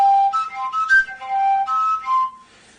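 A flute made from a hollow bark-stripped twig is blown, giving a reedy, breathy whistle that steps between a few pitches in short phrases, close and alone.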